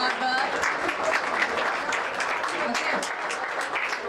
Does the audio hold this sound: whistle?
no